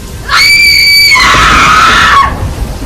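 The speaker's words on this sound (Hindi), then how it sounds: "यह चीख इतनी दर्द भरी थी कि हर सुनने वाले की रूह कांप जाती" A woman's anguished scream on a cold, rainy night in a Hindi moral story: one loud, sustained high-pitched shriek lasting about two seconds, dropping in pitch midway, heard alone.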